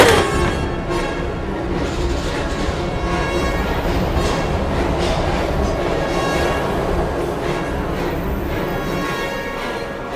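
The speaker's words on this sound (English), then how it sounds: "We've got to get on that train, Ethan." Train rumbling steadily in the Heavy Rain video game, a dense continuous roar with faint rhythmic clatter, loud and unbroken throughout.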